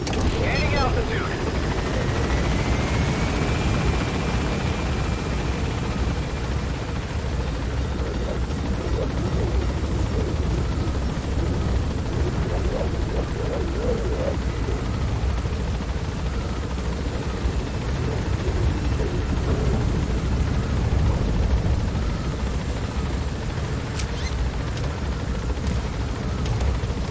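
Helicopter climbing for extraction in Metal Gear Solid V: The Phantom Pain, a steady, loud rotor and engine roar filling the whole stretch with a brief whine early on and faint game effects near the end.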